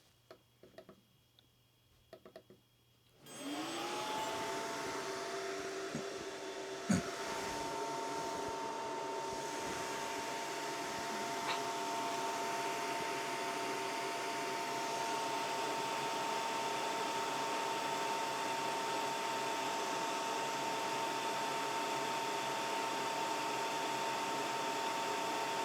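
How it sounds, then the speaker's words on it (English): An xTools F1 laser engraver starts up with a click, then holds a steady whirring fan hum with a few faint ticks, close and continuous for over twenty seconds with no talking. "we'll press this again and have a listen for the laser"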